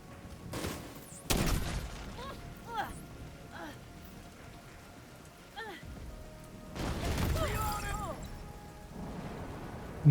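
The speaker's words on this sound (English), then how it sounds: "I hear gunfire." Gunfire crackles in the video game The Division, with heavy bursts and scattered shots over a noisy game soundscape, along with whistling tones and a few loud impacts.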